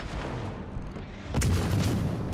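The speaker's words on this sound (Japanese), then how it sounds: "敵戦艦を撃ちます。" The cruiser Belfast '43 fires naval guns at an enemy battleship in World of Warships Legends, a single deep boom bursting out midway over steady game noise.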